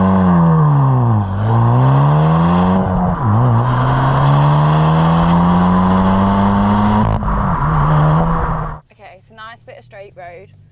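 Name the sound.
Hyundai i20N hot hatch engine revving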